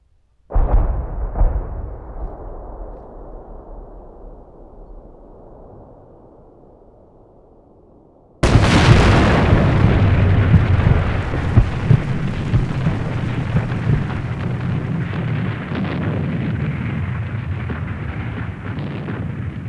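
A large explosion goes off in the war game 7554, first a distant thump with fading rumble, then a sudden massive close blast whose roaring debris and rumble persist loudly for over ten seconds.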